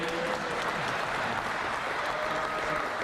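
A seated audience at a 1996 tribute event applauds steadily and loudly throughout, a dense even wash of clapping with no gaps, heard alone without any talk.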